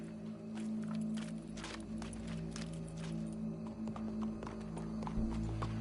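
Clip-clop of horse hooves at a walking pace in Red Dead Redemption 2, over a constant low hum and background ambience, no speech.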